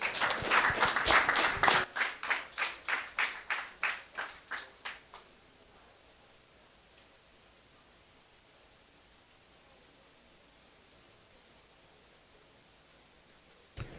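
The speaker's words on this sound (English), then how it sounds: "Let's give a hearty round of applause to our recipients" An audience at a college graduation ceremony applauds award recipients, a burst of loud clapping that quickly thins into rhythmic unison claps, fades out after about five seconds, then leaves quiet room hiss.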